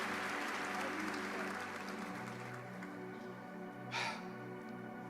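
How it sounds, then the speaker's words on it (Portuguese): An audience at a religious talk applauds, a broad clapping wash that thins and fades over a sustained tonal hum of music, fairly quiet overall. "Você pode aplaudir o mais forte que você puder."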